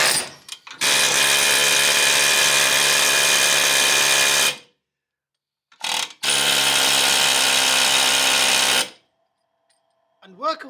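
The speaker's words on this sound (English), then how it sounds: "get on there with a blunt air chisel" A blunt air chisel hammers at a seized front brake part on a Mitsubishi L200 in two long, loud, steady bursts of about four and three seconds, with short pauses between them.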